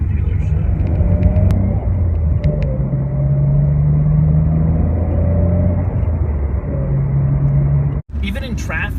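A Nissan Skyline GT-R driven in traffic, its engine a steady low rumble and drone from inside the cabin, with someone talking over it almost throughout.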